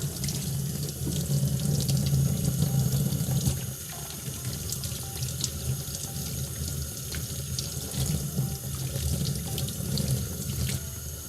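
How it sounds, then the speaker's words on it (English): Metal piece washed with dish soap under a running sink faucet, a continuous close rush and splatter of tap water that stays loud and even throughout, with no talking. "So you're just washing it with dish soap?"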